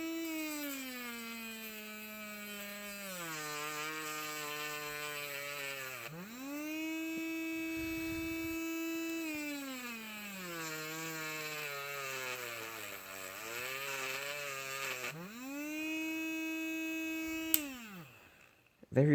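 A homemade cordless rotary tool sands wood at high RPM, giving a steady high-pitched motor whine whose pitch rises and falls as it loads against the wood, with a brief click near the end.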